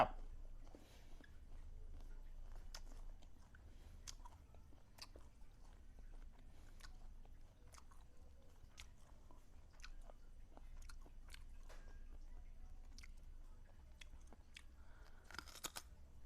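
Close, crisp biting and chewing of sour green mango eaten with lemongrass and chili dip, a steady run of sharp crunches and wet chews spaced every second or so, with no talk.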